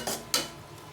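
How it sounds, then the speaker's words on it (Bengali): Shrimp being stirred and sautéed in a pan with green chillies, two quick scraping strokes close by followed by a faint sizzle, with no voices. "একটু নাড়াচাড়া করে চিংড়িটাকে একটু কষিয়ে নেব।"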